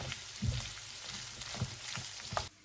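Garlic, onion and ground pork sautéing in a pan give a steady close sizzle with soft thumps of stirring, cutting off abruptly at the end.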